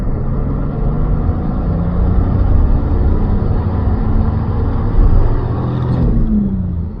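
Engine of a 1983 Datsun 280ZX heard from inside while driving, a loud, steady low rumble and whir with a slight rise in revs and a brief shift near the end.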